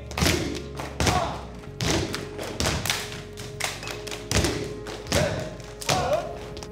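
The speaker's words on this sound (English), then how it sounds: "I did not know that you could produce rhythm by just using your feet and hands." A campus step team stomps and claps a rhythm, sharp thuds and slaps from feet and hands landing in repeated bursts, close and loud with no talk over them.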